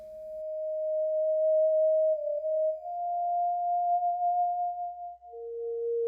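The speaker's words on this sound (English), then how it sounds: "It's just a sine wave where left to right controls pitch and pressure controls volume." A pure, steady electronic sine tone from a Haken Continuum holds a single pitch, gently wavering and swelling in volume, then glides down to a lower note near the end.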